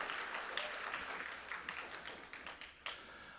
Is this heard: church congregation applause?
yes